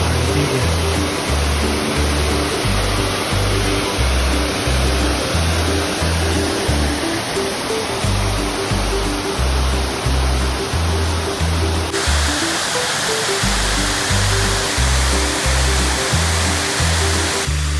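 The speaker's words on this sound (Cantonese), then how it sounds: "呢度係幾層瀑布嘅，上邊有個啦，細啲嘅啦，" Multi-tiered Gleno Waterfall roars as a steady, loud broadband rush throughout, with a low rhythmic thumping underneath and no voices.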